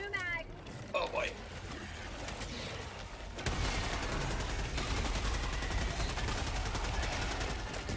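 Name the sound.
rifle gunfire in video game Helldivers 2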